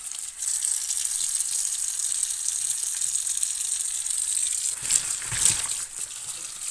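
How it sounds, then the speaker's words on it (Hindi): Leaves are washed under running water, a steady close hiss of flowing water with a brief heavier splash toward the end. "तो अब अंदर ले जाते हैं पत्तों को और धोते हैं। मैं धोऊंगी पत्ते।"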